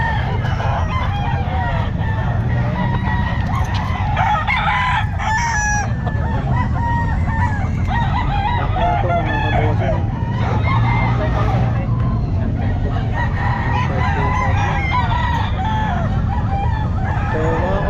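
Roosters crow repeatedly and chickens cluck at a busy poultry and pet market in Calumpit, the calls overlapping continuously amid crowd murmur and background bustle.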